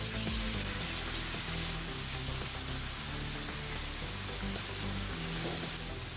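Onions softened in a frying pan sizzle steadily as tomatoes go in for a Maharashtrian kulith pithla, a continuous close hiss with faint stirring and clinks throughout.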